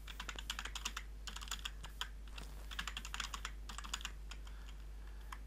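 Someone types a password on a computer keyboard during a server install, with steady bursts of quick, fairly faint key clicks and short pauses between runs, and no talking.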